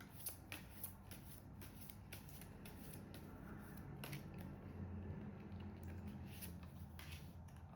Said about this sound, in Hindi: Okay, let me shuffle again.